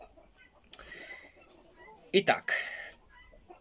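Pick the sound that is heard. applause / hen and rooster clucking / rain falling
hen and rooster clucking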